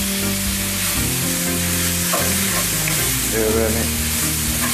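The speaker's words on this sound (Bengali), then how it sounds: "ভালো মতো নেড়ে আমি মাটাকে আর কি শুকিয়ে দেবো।" Keema mince frying in a pan while being stirred, with a steady close sizzle broken by scraping stirs; a voice speaks briefly over it.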